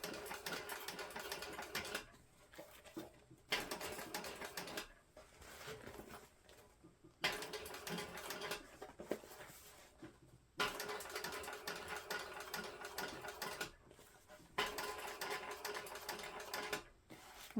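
A sewing machine stitches a zippered crossbody bag, running in several steady bursts of rapid mechanical chatter separated by short pauses, close and clear with no talking.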